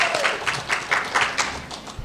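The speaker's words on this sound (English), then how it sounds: "we can already clap for him" Conference audience clapping for a guest educator, a light scattered patter of hands in short bursts that rises and fades over about two seconds.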